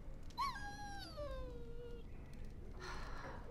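A warhound dog in the video game Dragon Age Origins gives a high, drawn-out whimper that slides downward, fairly quiet over low background noise.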